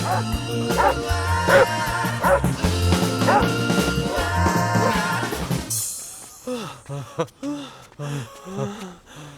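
A dog in a Bollywood movie yelps and whimpers after being hit, short strained cries breaking through loud music, which then drops away leaving a few fainter whines.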